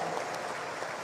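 An audience at a gathering of Solo Raya Islamic scholars breaks into applause, a brief burst of dense, even clapping.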